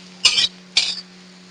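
Two short bursts of scraping and clinking as cucumber and tamarind are stirred in a pan for dosakaya chutney, each lasting about a quarter second, close and fairly loud over a steady low hum.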